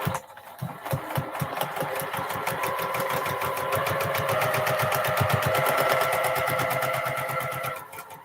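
A sewing machine stitches a quilt in a steady, rapid mechanical run of needle strokes, starting after a short pause and continuing close and fairly loud throughout with no talk.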